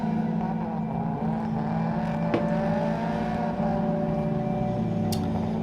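A car engine drones at a steady, high, sustained pitch, close and loud throughout, with a slight shift in pitch near the end and no talk.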